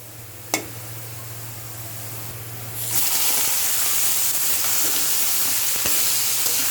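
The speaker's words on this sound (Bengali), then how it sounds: "এদিকে আমাদের পেঁয়াজ ভাজা কমপ্লিট। এখন লাউ শাক দেবে।" Bottle gourd greens go into a pan of fried onions and erupt into a loud, steady sizzle about midway through, after a quieter hiss and a single sharp clink near the start.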